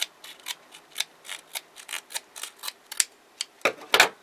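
Scissors snip through a paper model in a close, steady run of crisp cuts, a little over a dozen in quick succession, closing with a louder rustle of handled paper.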